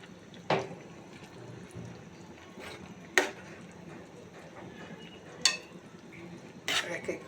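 Rohu fish and potato curry ladled into bowls, with a few sharp metal clinks of a ladle against pots and bowls spaced through a quiet kitchen.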